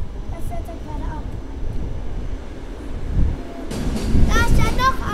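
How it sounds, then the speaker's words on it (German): A train pulls out of a station with a low rumble and rising wheel and wagon noise that swells toward the end, while faint tonal voice-like sounds drift over it. "Oh, guck, da fährt mein Zug ab."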